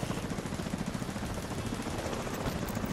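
Faint, steady bursts of automatic gunfire rattle at a distance in The Division 2, low in level and evenly paced.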